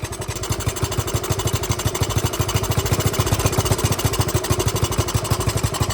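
Dirt bike engine idling, a loud, close, rapid and even low chugging pulse that runs steadily throughout with no revving.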